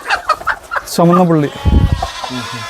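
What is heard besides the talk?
spotted chickens clucking on a farm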